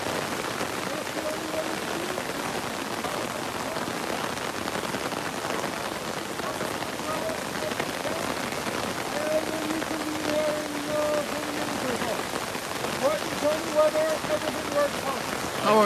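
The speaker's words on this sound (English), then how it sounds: "I can't get out of the rain." Steady rain falls continuously on a surface throughout, a dense even patter with faint background sounds and brief tonal hints near the end.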